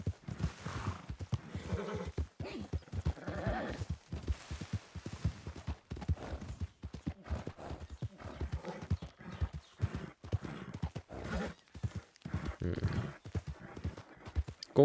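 Horse hooves clip-clop steadily in the video game Red Dead Redemption 2, a fast rhythmic gallop that runs loud and close through the whole stretch, with a whinny briefly standing out.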